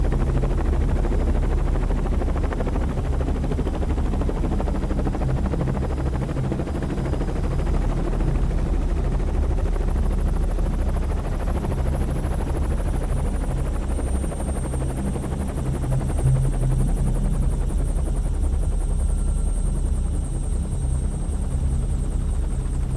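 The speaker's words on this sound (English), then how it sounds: "I had to fly in by helicopter." A helicopter flies over the rugged mountains of Oman, its rotor and engine drone close, loud and continuous with no voices.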